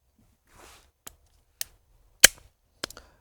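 Four sharp, isolated shots from a GAMO AF-10 compression air pistol, each a dry crack spaced about half a second apart, with quiet between them.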